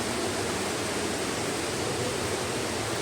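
Kote Abbe waterfall in Coorg roars as a steady, dense rush of falling water, loud and unbroken throughout with no voices.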